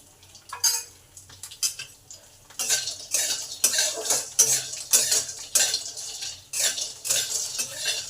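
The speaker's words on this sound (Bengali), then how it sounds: "কড়া গরম হলে কিছুটা বড়ি আগে ভেজে নেব" Lentil dumplings (bori) fry in a little oil in a hot pan while a utensil stirs them, giving repeated metallic clinks and scrapes over a faint sizzle.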